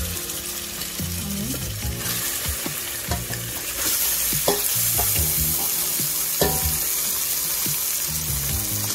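Onion frying in a pan with garlic-ginger paste, a steady close sizzle with occasional scraping and knocking as it is stirred, turning louder and hissier partway through, with no talking.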